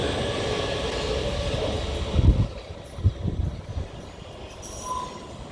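A Stockholm metro train rumbles steadily, with a few heavier clunks from the wheels and faint metallic squeals, and no voices.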